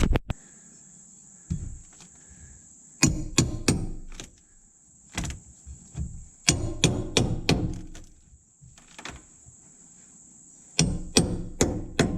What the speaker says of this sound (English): I'm gonna grab a pry bar and a hammer and get the rest out.